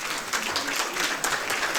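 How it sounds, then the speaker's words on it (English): Audience applause at the TICAD6 conference, a steady dense round of clapping from a large room that holds at an even level throughout with no talk over it. "Ladies and gentlemen, can we give them a warmer round of applause, please?"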